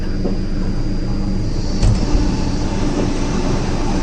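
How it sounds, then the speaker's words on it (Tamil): A Vande Bharat express train rumbles past close by on the Bengaluru to Mangalore route during monsoon, with a steady, heavy roar and a faint high whine, no voices. "இது எக்ஸ்க்ளூசிவ் ட்ரெயின், வந்தே பாரத்தில் நினைக்கிறேன்"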